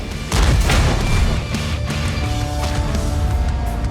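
An ISU-152K tank gun fires in a video game, a single heavy boom followed by a long rumbling tail of battle noise, loud and close with no talk.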